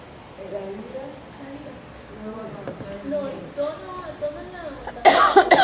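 A person talks steadily in Spanish during a religious talk, then one loud, harsh cough bursts out close by near the end.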